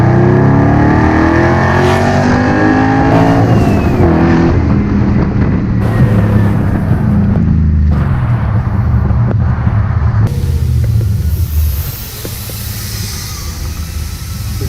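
A 1962 Corvette accelerates on a test run, its loud, close engine revving up through rising gear sweeps before the roar fades off toward the end.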